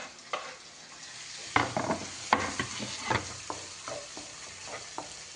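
Tomatoes fry with ginger garlic paste in a pan for a chicken gravy curry, giving a steady close sizzle broken by several sharp spoon scrapes and clatters as the mixture is stirred.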